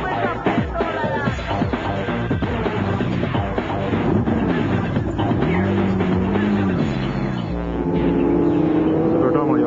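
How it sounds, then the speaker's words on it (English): Toyota 200 series Land Cruiser lurching slowly over a rough outback track, engine droning and rising in pitch with the throttle while the body and suspension rattle continuously; a voice speaks underneath. "we're in the team's 200 series Land Cruiser, a vehicle that is really built for outback conditions"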